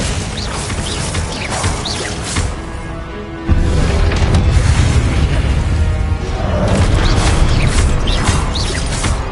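Confringo blast spells from Hogwarts Legacy on PS5, a loud, dense run of booming bursts and crashing impacts, with a sharp surge in low rumble partway through that holds steady to the end.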